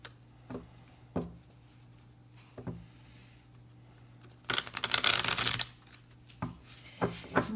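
Tarot cards riffled and shuffled up close, scattered single taps and slaps of the deck leading to a dense, crisp burst of shuffling lasting about a second, then more isolated card knocks.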